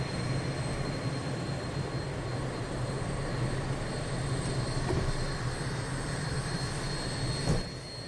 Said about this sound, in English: Maybe that was just a plane